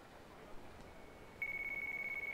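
A phone in the video game Yakuza 3 starts ringing partway through, a steady pulsing electronic ring tone over a faint background hush.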